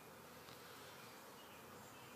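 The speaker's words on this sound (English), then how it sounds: "the hive is buzzing. A lot of activity." Honeybees buzz steadily at a busy beehive on a summer evening, a dense continuous hum with no breaks, quiet and no voices.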